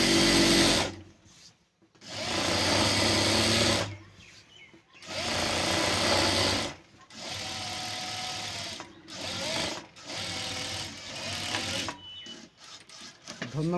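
A sewing machine stitches a picot edge along a saree in several loud bursts of rapid mechanical whirring, separated by brief pauses.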